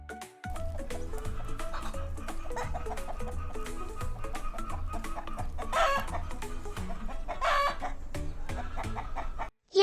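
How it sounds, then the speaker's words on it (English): A chicken clucks in quick repeated bursts while a rooster crows twice over it, close and clear, with steady farmyard calls filling the whole stretch. "Yes, this is a chicken."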